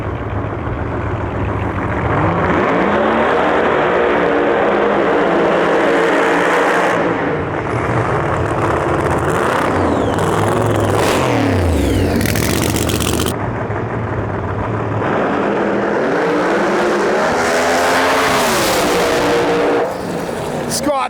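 Drag race car making its first qualifying pass at U.S. Street Nationals, a loud sustained engine roar with rising and falling revs lasting throughout, with voices talking over it.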